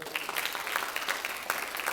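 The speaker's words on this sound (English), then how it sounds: "Big round of applause for her." An audience applauds at a closing ceremony, a steady, moderately faint wash of clapping from many hands with no voices standing out.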